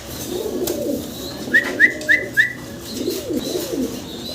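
A pair of black Nun pigeons give soft, low rolling coos nearby, with a quick run of four short, high chirps in the middle.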